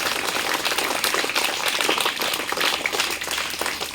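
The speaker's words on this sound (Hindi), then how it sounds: "इनका जोरदार ताली से स्वागत कीजिए।" At a school results and prize ceremony, an audience claps loudly for a class 1 student who placed second, a close, dense burst of hand clapping with uneven bursts and no speech.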